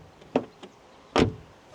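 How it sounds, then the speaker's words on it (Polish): A 2005 Škoda Fabia 1.4 16V car door is opened with a soft click, then shut with a firm, close thud about a second later, with no talking. "Dźwięk otwierania i zamykania drzwi."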